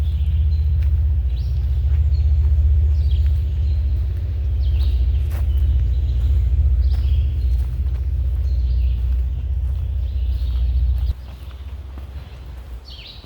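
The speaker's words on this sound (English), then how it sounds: "can you hear that? That's the red-eyed vireo." Short, repeated phrases of a red-eyed vireo sing out at intervals above a loud, steady low rumble that drops off near the end.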